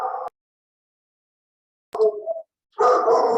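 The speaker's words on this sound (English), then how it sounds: "Excuse my dog." A dog barks in a few short, loud bursts close to the microphone, separated by silence, with no talking over it.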